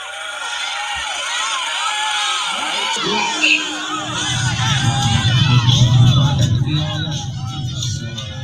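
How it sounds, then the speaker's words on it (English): A live audience erupts in loud cheering, shouting and applause at a comedy-style show, swelling into a dense roar of crowd noise that builds over several seconds and stays strong to the end. "So round of applause."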